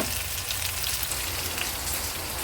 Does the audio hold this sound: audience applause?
no